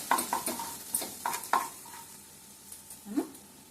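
Onions fry with masala in a pan for a mango chicken curry, giving a steady sizzle broken by several sharp scraping strokes of a spoon against the pan, close up with no talking.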